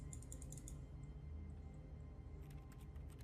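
Soft clicking key presses on a telephone keypad in the video game The Stanley Parable, a few quick taps early and again near the end over a low steady hum.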